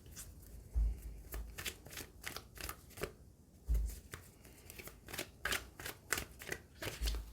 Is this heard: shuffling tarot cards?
yes